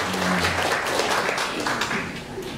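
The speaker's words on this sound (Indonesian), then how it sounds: "Tepuk tangan buat Bapak Anas Ponijan." An audience at a school farewell and welcome ceremony claps steadily, dense and fairly loud applause filling the whole moment and easing slightly toward the end.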